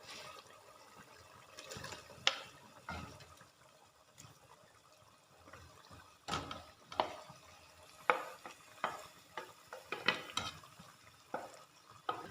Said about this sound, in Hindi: अच्छी तरह मसाले और शलजम को मिक्स कर लेंगे।